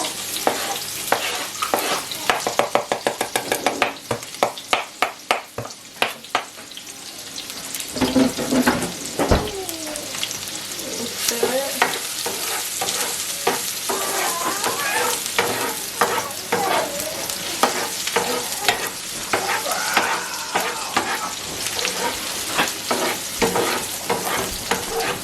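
Onions tossed into hot oil for Jamaican brown stew chicken, first with sharp rhythmic knocks, then a loud steady sizzle and hiss broken by close scraping and clattering as they are stirred, with no talk.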